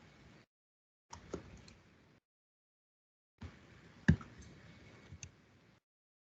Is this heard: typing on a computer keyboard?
yes